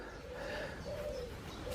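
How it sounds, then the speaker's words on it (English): Birds calling outdoors along a canal towpath, with soft cooing tones and a few higher chirps carried over steady light background noise, fairly faint and continuous with no talking. "At least the birds are happy, you can hear them all singing."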